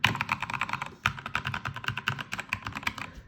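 Fast, steady typing on a Keychron K2 V2 mechanical keyboard with red switches, a dense run of close, crisp key clacks with a brief pause partway through.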